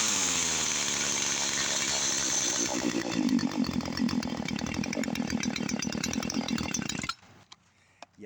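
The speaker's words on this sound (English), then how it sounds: "The only thing I don't like about this Temu chainsaw is that easy start" A 50cc Temu chainsaw engine runs loud and close with a rough, buzzing two-stroke note that climbs to a harsher pitch midway, then cuts out abruptly near the end, leaving only faint background.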